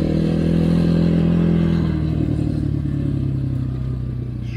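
A Kovi Max 300 enduro motorcycle rattles and clatters steadily while being ridden, its mid-pitched engine drone continuous and close throughout, with no talking.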